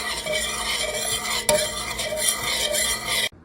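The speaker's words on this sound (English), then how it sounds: "heat up your water and vinegar in a saucepan, add your sugar and salt, and stir it until it's all dissolved" A spoon scraping and stirring water and vinegar with sugar and salt in a metal saucepan, a brief clink partway through, close and continuous before stopping.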